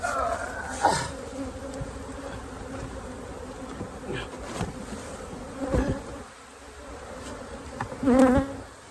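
Honeybees swarm around a heavy hive box, a steady close buzzing with individual bees droning past the ear and a few louder passes near the end.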